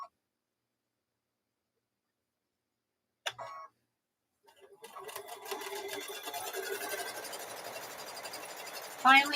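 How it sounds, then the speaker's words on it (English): A sewing machine stitches fabric strips together. After some silence and a brief knock, it starts up and runs in a steady, fast, close-up mechanical whir for several seconds, then a louder clunk at the end. "so you sew 3 3/4 inch strips together"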